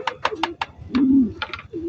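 Pigeons, including young birds, landing on a roof, giving several short low coos in quick succession, then one longer rolling coo and a couple more, close and clear with no speech.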